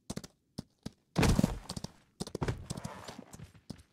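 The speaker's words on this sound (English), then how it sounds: "Oh, there's a horse here." Horse hooves clip-clop in the Wild West battle royale game GRIT, sharp clustered hoofbeats in irregular bursts with a louder scuffing thud midway, heard alone without talk.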